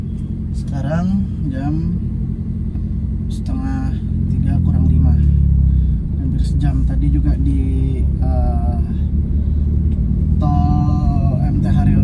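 A car sits in a traffic jam on the Jagorawi toll road, its engine a steady low rumble beneath someone talking continuously inside the cabin.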